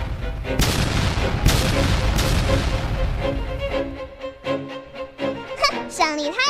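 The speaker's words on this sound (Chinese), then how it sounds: "想捡星星没门，看我火箭弹轰炸。" Rocket bombardment in the video game Mini World: a loud, rapid barrage of booming blasts for about three seconds, easing into scattered explosions as a cartoonish voice speaks near the end.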